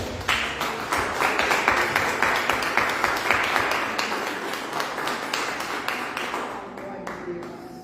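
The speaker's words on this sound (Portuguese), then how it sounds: "Dê um aplauso ao Senhor" A church congregation applauds in praise, with dense, steady clapping that carries on for several seconds and fades near the end, while voices mingle underneath.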